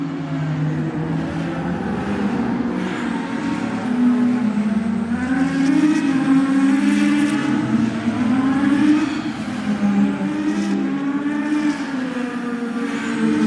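GT 500 race cars, including a Nissan, roar around an SMSA circuit, their engines droning loudly and steadily with rising and falling revs as they pass close by.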